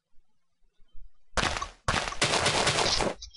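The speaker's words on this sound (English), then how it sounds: "bundled C4, which is like C4, but when it explodes, it throws little mini bombs everywhere" Bundled C4 going off in Minecraft and scattering mini bombs: after near silence, a sudden harsh blast, a brief gap, then a dense crackling roar of chained explosions that cuts off abruptly.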